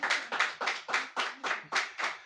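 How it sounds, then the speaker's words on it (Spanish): Church congregation claps in unison for the Lord, about nine sharp, evenly spaced claps in a steady rhythm, close and fairly loud, with no talking over them. "¿Cuánto le dan un aplauso al Señor?"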